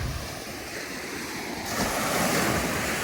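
Surf rolling onto a gently sloping sandy beach at Cambrils on the Costa Dorada, a steady broad wash of breaking waves with wind noise on the microphone, swelling louder in the second half.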